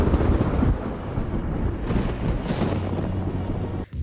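A voice imitates a thunderstorm with rough, rumbling mouth noises that rise and fall in loudness, ending in a brief pause.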